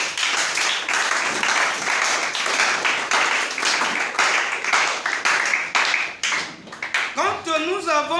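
Sustained, dense applause from a church congregation at a French-language sermon, continuous clapping for several seconds that fades near the end as a voice begins speaking.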